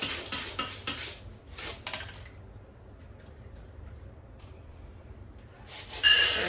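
Dry beans get rinsed in a colander under running water: a rushing, hissy splash with bursts of beans rattling and clattering against the metal, easing into a quieter trickle before surging up again at the end. No one speaks.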